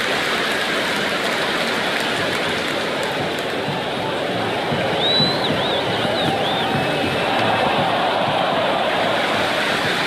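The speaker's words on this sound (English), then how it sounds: "it's so clear that all these spectators here today completely enthralled and energised, judging by that noise anyway" Dense, steady roar of a large stadium crowd in the cricket video game Cricket 26, continuous and broad like rain, with a faint whistle-like cry rising briefly midway and no talk.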